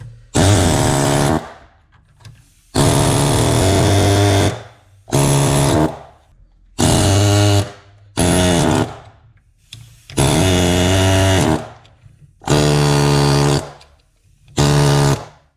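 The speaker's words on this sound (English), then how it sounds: "The air hammer is too weak." An air hammer pounds the broken U-joint on an articulated dump truck driveshaft in about eight loud, close bursts of rapid hammering, each roughly a second long, separated by short pauses.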